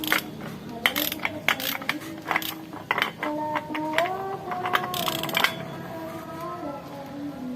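A bolt on a Honda PCX 160 scooter being tightened to 45 Nm: close, irregular metallic ratcheting clicks and clinks, short tool taps and ringing tones, with a faint voice in the background.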